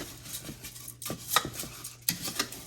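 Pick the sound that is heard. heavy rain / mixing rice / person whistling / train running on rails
mixing rice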